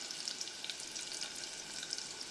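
Chopped onion fries with crushed garlic in a pan, giving a faint, even hiss with small crackles throughout, without stirring or voices.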